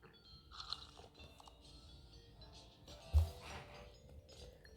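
Crunching bites of food in the Toca World game at a bistro-style restaurant, a soft run of quiet chewing crunches with one louder crunch near the end, over a light background of game music.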